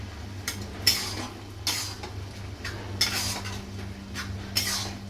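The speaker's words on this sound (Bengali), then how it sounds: "মিষ্টি দিয়ে নাড়িয়ে দিলাম" A cabbage dish stirred in a hot pan after sugar goes in: a spoon scrapes and clinks against the pan in slow, regular strokes about once a second, close and clear over a low steady hum.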